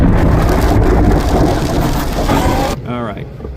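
Rain falling steadily on a dirt road, a dense hiss close to the microphone, with someone speaking near the end over it.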